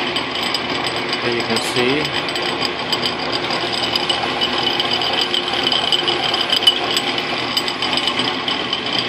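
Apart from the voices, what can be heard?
Logan lathe milling a nut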